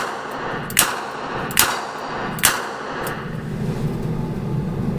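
Three sharp revolver shots from a heavy Ruger Redhawk firing light 45 ACP loads, evenly spaced in quick succession, loud and close, followed by lingering range noise.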